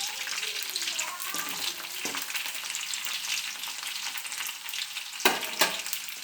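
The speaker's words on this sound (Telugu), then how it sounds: "కొద్దిగా ఎర్రగడ్డలు వేసుకోవాలి. తర్వాత బాగా వాడే వరకు బాగా వేపుకోవాలి." Onions frying in a pan give a steady, close sizzle with a few brief clatters of stirring near the end.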